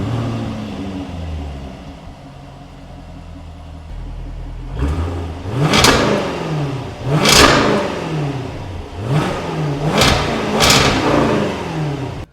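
A Jaguar F-Type V8 fires up with a loud burst, settles briefly, then gives five sharp throttle blips with the exhaust valves open, each rising roar falling back between revs, close and powerful.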